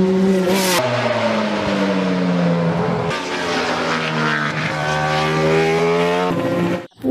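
A toy racing motorcycle's engine sound rises and falls in pitch through several revving sweeps, loud and close, with a buzzing electronic tone and a brief break before cutting off at the end.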